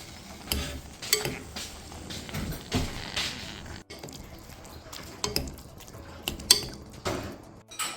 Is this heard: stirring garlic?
yes